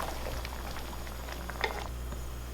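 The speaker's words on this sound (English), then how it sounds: "Let them boil." Water boiling in a pot with lasagna sheets for seblak, a quiet close bubbling and soft popping over a low steady hum, with one slightly louder pop partway through.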